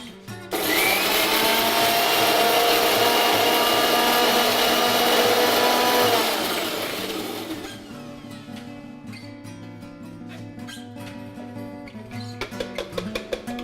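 Spinach and chopped onions crushed in a blender for a loud, steady whirring burst lasting about six seconds, then winding down, followed by quieter clatter and a few knocks.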